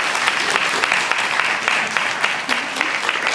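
An audience claps at a guide dog graduation ceremony, a dense, steady patter of many hands lasting a few seconds, fairly loud and filling the room.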